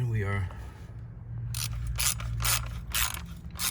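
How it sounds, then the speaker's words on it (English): Ratchet wrench tightening a bolt on a Honda CR-V cooling pipe, a short run of quick crisp clicking strokes at close range, with a voice heard briefly at the start. "tightening the last bolt on this pipe with our new bolt"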